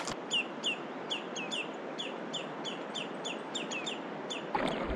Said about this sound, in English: These birds must have a nest here. They don't like me being here.